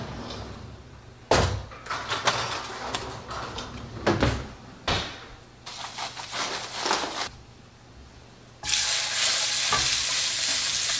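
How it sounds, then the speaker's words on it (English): Beef for a Beef Wellington searing in a very hot pan, a broad sizzle that comes and goes with sharp knocks and clatters of the pan, then a steady loud hiss in the final seconds; no talking. "This is the only opportunity you have to sear your meat, so you want to get this really warm"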